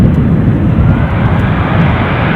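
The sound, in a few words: aircraft at Edinburgh airport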